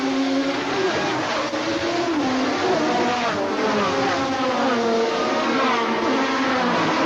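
Porsche 962 and Jaguar XJR7 race cars accelerate hard off the start of the 1986 Laguna Seca 300km IMSA race, engine howls rising and overlapping as they pass, with a commentator talking over the steady roar.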